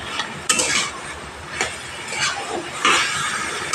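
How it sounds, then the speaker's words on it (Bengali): Taro leaves and chickpeas are stirred in a pan with a spoon, producing irregular scraping strokes and clinks over a soft constant sizzle, near and without talk. "2-3 মিনিট নাড়াচাড়ার পর এই পর্যায়ে এসে ছোলাগুলো আমি দিয়ে দিলাম কচুর সাথে"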